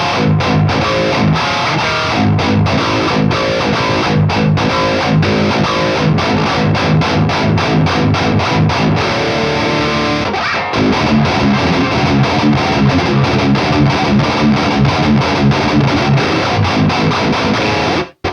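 An electric guitar played through a Quad Cortex with distortion and a reverb effect. Choppy, rhythmic strummed chords ring continuously and loudly, with a brief pause near the middle, and no talking.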